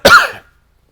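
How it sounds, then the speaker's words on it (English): A single sharp, close cough, brief and loud, followed by silence. "I'll probably keep that cough in"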